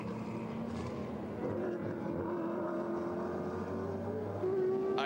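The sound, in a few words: GT race car engine at Hampton Downs track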